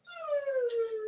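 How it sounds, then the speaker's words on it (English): A single dog howl rises quickly and slides slowly downward as one long, clear, moderately loud wail of about a second, with no other sounds around it. The dog is eager to go out for a walk. "So that's the dog, ready for its walk."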